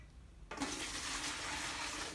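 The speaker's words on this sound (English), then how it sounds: "I'm gonna just dump this stuff out of our drain pan here," Old engine coolant from a Mazda RX-7 coolant flush is dumped out of a drain pan, starting abruptly as a steady splashing, gushing pour that continues to the end, close and fairly loud, with no talk.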